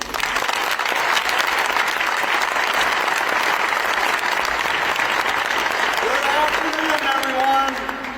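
A crowd at NC State greets its Chancellor with a long round of applause, a full, even roar of clapping that begins to thin near the end as a voice starts speaking.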